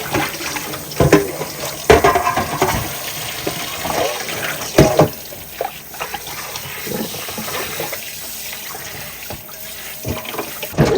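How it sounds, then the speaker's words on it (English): Cold tap water runs over a raw pork shoulder in a kitchen sink, a continuous splashing rush broken by louder irregular splatters as the meat is turned under the stream. "Just gonna go ahead and rinse it off with cold water."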